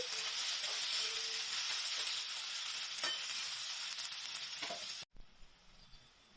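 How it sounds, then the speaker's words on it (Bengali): Chopped onions frying in oil with cumin seeds and a bay leaf, a loud steady hiss of sizzling close up with occasional stirring clicks, dropping abruptly to quieter sizzle near the end. "চারটে মিডিয়াম সাইজের কুচানো পেঁয়াজ দিয়ে দিলাম।"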